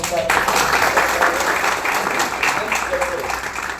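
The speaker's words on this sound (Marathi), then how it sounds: "पुन्हा एकदा जोरदार टाळ्या" An audience at a Marathi community program bursts into loud, sustained applause, a dense wash of many hands clapping at once that carries through the whole stretch, with a voice faintly present underneath.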